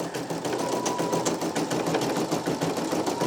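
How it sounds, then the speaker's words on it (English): A Brother PE900 embroidery machine stitches a custom design, its needle hammering out a fast, steady rhythmic chatter close by and at even loudness throughout, with no talking over it. "this machine cuts jump stitches"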